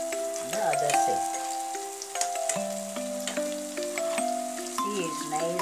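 Banana bites coated in masala frying on a very hot pan, a steady close sizzle that runs throughout with a light musical tone playing underneath.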